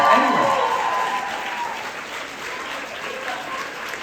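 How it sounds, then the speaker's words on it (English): Rhythmic clapping from an audience at a comedy show, a full, even wash of many hands that starts strong and stays steady, slowly easing in level over a few seconds. "That was some of the best rhythmic clapping I've ever had"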